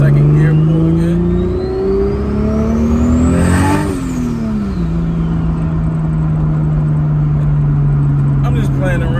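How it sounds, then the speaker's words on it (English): A Lexus SC300 with a 2JZ engine and BorgWarner T51R turbo pulls hard in second gear, a loud close engine roar climbing in pitch, dipping at a shift and holding a heavy drone, with turbo whine and rumble throughout. "Second gear pull again."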